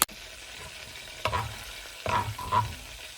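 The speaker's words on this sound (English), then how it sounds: "Put in my 1/3 cup of flour and let that cook down, get rid of that flour taste." Flour cooks down in butter for a bechamel sauce, sizzling softly with a few louder bursts of frying and stirring, close and with no talking.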